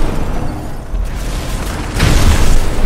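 Explosive detonation in Batman: Arkham Asylum, a loud broadband blast swelling in after a dense rumbling build, booming heavily over the final second alone without voices.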